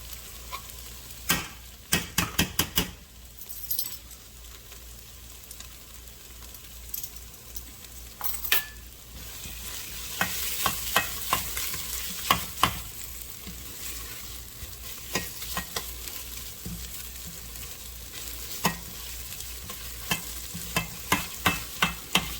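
Tomato paste added and stirred into a meatless tomato sauce in a pan, with a steady low sizzle under scraping spoon strokes, sharp clicks and taps against the pan, and no talking.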